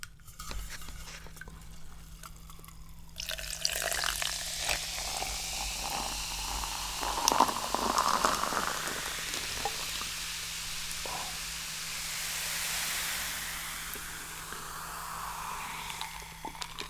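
Tasmania sparkling water fizzing steadily after an opening hush, a soft continuous hiss with faint crackling bubbles running close and fairly quiet for most of the stretch.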